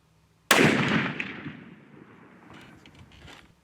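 A single sharp, loud report from a Hankins custom smokeless powder muzzleloader, followed by a long decaying rumble that echoes outdoors over a few seconds.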